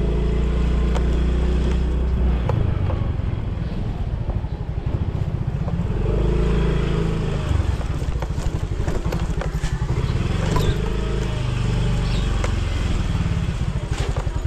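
A Honda TMX motorcycle runs in a parking area, its engine giving a steady, close, low rumble with uneven chugging pulses and light clatter throughout.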